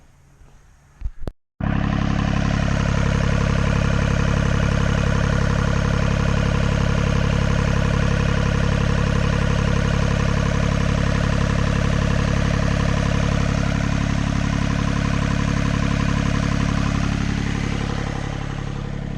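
A Takeuchi TB135 compact excavator engine cranks briefly, catches and settles into a loud, steady diesel idle that runs close and unbroken for the rest of the time.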